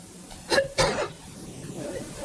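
Two short, sharp asthma coughs in quick succession, fairly close, during a Senate debate, followed by quiet room background.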